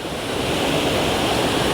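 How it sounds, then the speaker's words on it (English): Janet's Foss, a waterfall pouring over slippery limestone, gives a steady, dense rush of falling water that holds at an even loudness throughout, with no voices over it. "Foss is a Scandinavian word for waterfall"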